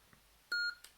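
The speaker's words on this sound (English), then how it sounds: "There's your beep." An Ultrasabers Apprentice V5 lightsaber with a Prizm 5.1 RGB Tri-Cree board gives a short, clean electronic beep while advancing sound fonts, one bright tone in an otherwise quiet room, followed by a faint click.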